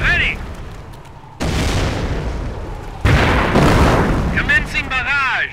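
Mortar barrage in the World War II strategy game Company of Heroes, heavy booming explosions rolling in loud back-to-back bursts, with a shouted voice line briefly over the top.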